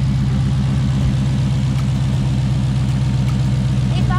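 A parked truck's engine idles at close range, a steady low rumble with an even rhythmic pulse running throughout, with faint chatter and a brief high squeak near the end.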